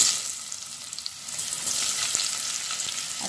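Onion frying in hot cooking oil in a pot for chicken lomi, a bright, dense sizzle that swells after it is added and stays steady and close with faint clinks, no talking.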